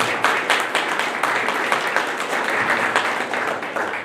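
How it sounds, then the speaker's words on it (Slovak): An audience at an architectural design competition exhibition opening in Zvolen applauds the winner, a dense, steady round of clapping from a crowd that carries on without a break. "Potlesk pre víťaza."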